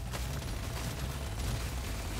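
Auto cannon firing in the video game Deep Rock Galactic Survivor, a dense, continuous barrage of rapid gunfire layered with game noise, loud and unbroken across the whole stretch.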